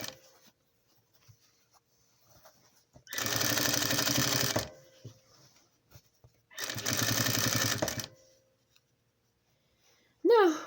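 A sewing machine top stitches a blouse in two steady runs of about one and a half seconds each, a close loud whirring with quiet handling between the runs and a brief voice at the very end.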